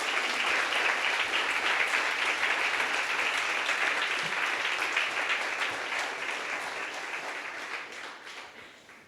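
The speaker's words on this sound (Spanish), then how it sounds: "Pues denle un aplauso al Señor" A church congregation applauds during a Spanish-language sermon, a dense, continuous round of clapping that holds strong for several seconds and then gradually fades.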